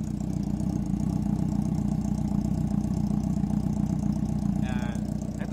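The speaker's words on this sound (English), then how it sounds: "So papakinggan natin yung idle." A motorcycle engine fitted with an aftermarket exhaust, either a Kawasaki ZX-10R or a Honda CB400, idles steadily and loudly up close, a continuous low rumble with a brief higher chirp near the end.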